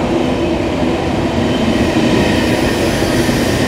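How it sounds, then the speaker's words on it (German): A German ICE 1 high-speed train of class 401 pulls into Braunschweig main station at night, giving a loud, steady rumbling rush of wheels and carriages passing close by with faint squeal. "Jetzt kommt der ICE von hinten und fährt das Bild zu."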